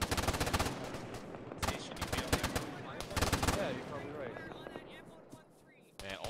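Rapid automatic gunfire in ARMA 3 crackles in dense bursts of sharp shots, loud and close, with a few isolated reports and fading echoes near the end.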